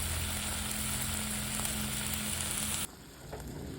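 Soup ingredients with ginger, garlic and yogurt sizzle and fry steadily in a hot pan, a dense close crackle that drops abruptly quieter near the end as the frying continues more softly.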